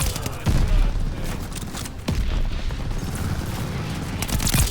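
Heavy airstrike explosions and rattling gunfire from the shooter game Call of Duty: Vanguard, a dense, continuous barrage of booms and shots with brief dips, with a little voice faintly mixed in.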